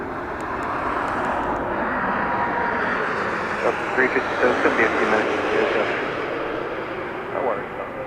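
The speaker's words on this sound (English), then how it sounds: "we got our first arriving flight, which should not be any surprise here. It's going to be Southwest Aerolíneas" A Southwest Airlines jet arrives at Las Vegas Harry Reid International Airport, its steady broadband engine roar holding fairly loud throughout, with a few faint voices in the background.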